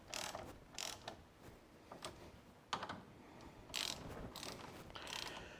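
Torque ratchet tightening bolts on a DV8 overhead Molle console in a Ford Bronco, rapid close clicking bursts of the pawl in repeated strokes, faint and mechanical.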